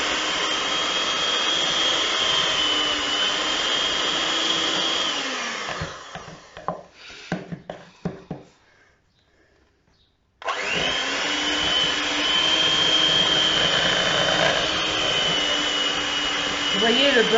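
An electric mixer beats room-temperature butter for cookie dough, running loudly and steadily with a high whine. It cuts out midway, leaving a short near-silent gap with a few clatters, then starts again just as loudly.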